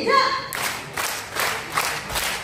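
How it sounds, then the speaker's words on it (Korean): An audience at a Korean private taxi driver training lecture claps hands in unison on cue, a few strong, evenly spaced group claps following a brief spoken instruction. "자, 다같이 박수 세 번 시작!"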